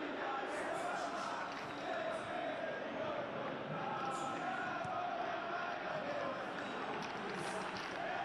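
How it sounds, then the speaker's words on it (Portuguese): Supporters celebrate in the stands of a football video game, a dense steady crowd roar with cheering, faint and continuous throughout. "Olha quanta comemoração na arquibancada."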